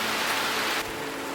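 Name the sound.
heavy rain on a mountain trail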